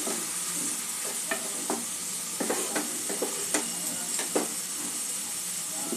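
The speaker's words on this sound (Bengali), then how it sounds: "পেঁয়াজ, আদা, রসুনটা মশলার সাথে একটু কষে নেব।" Onion, ginger and garlic fry with spices in a pan, giving a steady loud sizzle under irregular stirring scrapes and clinks and no talking.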